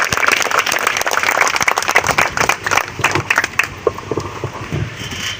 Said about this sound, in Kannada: ಸೊ ನೀವು ಒಂದು ಗ್ರ್ಯಾಂಡ್ ಚಪ್ಪಾಳೆ ಮೂಲಕ ಅವರಿಗೆ ನಾನು ಕೊಡ್ತೇನೆ